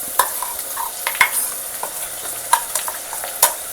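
Masala stirred into oily eggplant curry in a pan: sharp scraping and tapping of a spoon against the pan at irregular intervals over a faint sizzle, close, no voices.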